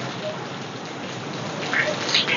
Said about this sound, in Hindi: क्या बारिश हो रही है लोग, और बिजली